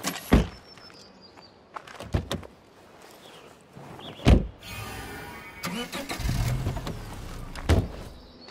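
Vehicle in State of Decay 2 starting up and driving after repairs, with a few sharp thunks like doors or impacts, then a steady mid-pitched engine rumble building and holding through the second half.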